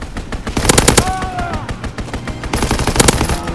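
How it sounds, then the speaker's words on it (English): Loud, close machine-gun fire from a strafing run in a video game, with rapid bursts of shots rattling in quick succession, a short lull in the middle, then more heavy bursts. "Strafing run inbound."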